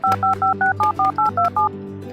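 Nine quick dual-tone keypad beeps from a phone dialing a tow truck in a Barbie doll game, steady and evenly spaced, followed by a low hum with no speech.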